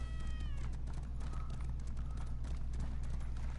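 Hoofbeats of a horse galloping in Elder Scrolls Online, a quick clip-clop rhythm under game ambience with a low steady hum beneath; a brief tonal chime sounds near the start.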